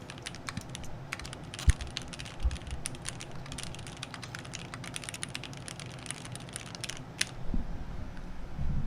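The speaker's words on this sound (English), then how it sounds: "the last ASMR sound effect that we have prepared is keyboard sounds" Computer keyboard typed close to a microphone for an ASMR demonstration, a fast irregular stream of crisp key clicks with occasional louder thumps, continuing alone without talk.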